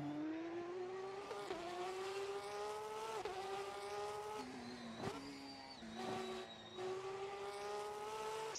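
Race car engine in Assetto Corsa at Laguna Seca, steady high revving tone that drops sharply several times as the driver brakes behind a Porsche, with brief tire squeal and gear changes, loud and close with no voices.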